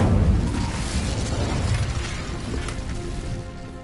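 Incendio fire spell cast in Hogwarts Legacy, a loud roaring whoosh of flame with a heavy low rumble that starts strong and slowly fades over a few seconds.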